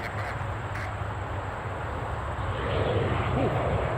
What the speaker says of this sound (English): that guy took off pretty quick